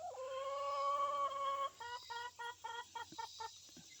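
A hen in a chicken house gives a drawn-out, close call followed by a quick run of short, choppy clucks, heard alone in a quiet setting.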